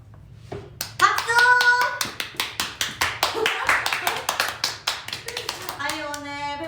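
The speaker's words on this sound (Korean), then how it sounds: "박수!" Applause at a performing arts high school graduation, a few people clapping in a steady rhythm, fairly close, with voices calling out around the claps.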